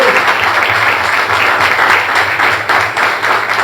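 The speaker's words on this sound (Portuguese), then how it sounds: "vamos aplaudir para o Senhor pela presença também" Loud, dense applause from a church congregation fills the space, sustained clapping from many hands at close range without a break.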